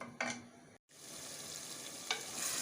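Onions simmering in oil in a saucepan for a yassa sauce give a faint, quiet sizzle, with a couple of brief scrapes as they are stirred and a short break in the sound partway through.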